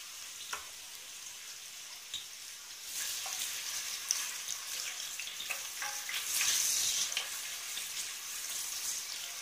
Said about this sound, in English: While the onion is sautéing